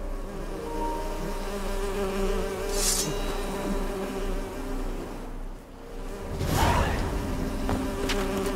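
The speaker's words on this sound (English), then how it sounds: "The birds singing, the bees buzzing." Bees buzzing in the Witcher 3 video game: a continuous insect drone fills the scene, with a couple of louder whooshing passes as one flies close, under faint background tones.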